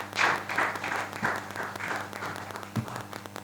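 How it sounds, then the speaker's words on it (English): Audience applause at a Chivita World Juice Day event, a moderate burst of clapping from a gathered crowd with uneven loudness and a few sharper claps standing out. "Please, can we give her another round of applause?"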